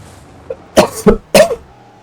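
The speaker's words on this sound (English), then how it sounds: "Sorry for the coughing." Three sharp coughs in quick succession, close and loud, preceded by a small throat sound, with silence in between.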